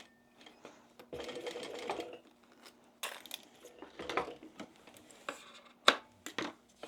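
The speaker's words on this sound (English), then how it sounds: "just sew one seam down the middle" A sewing machine runs in short bursts of rapid stitching, sewing one seam down the middle of a bag strap, with brief pauses between runs.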